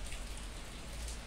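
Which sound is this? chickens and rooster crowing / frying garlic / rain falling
rain falling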